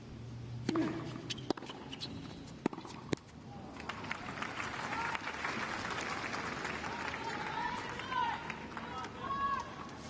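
Spectators at a men's tennis quarter-final at the Apia International clap in a sustained, moderately loud ripple, with a commentator's voice running over it and a few sharp knocks near the start.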